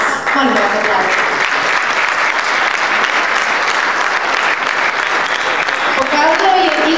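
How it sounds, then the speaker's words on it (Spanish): Loud, sustained audience applause fills a folklore gala awards ceremony in Leposavić, Kosovo, a dense steady roar of many hands with faint voices mixed in. "Molim vas aplauz."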